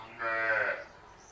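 A large, calm, pregnant dairy cow on a farm gives a single moo of about half a second. It is clear and moderately close over a quiet background.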